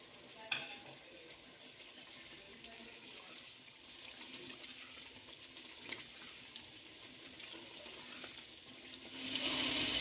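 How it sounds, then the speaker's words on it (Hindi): Chopped boiled potatoes and chicken cook in masala in a pot, giving a faint, steady sizzle and soft stirring scrapes at low volume throughout, rising slightly at the very end. "अब इसमें 200 ग्राम कटे हुए उबले आलू डालेंगे हम और अच्छी तरह पकाएंगे 5 मिनट तक ताकि मसाला रच जाए इसमें।"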